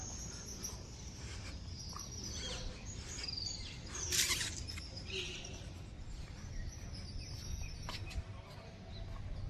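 Mixed birds calling outdoors near a riverbank, with mynas, parrots and pigeons among them; steady chirps and calls over a continuous insect-like hum, moderately distant, with one brief louder burst midway and no talk.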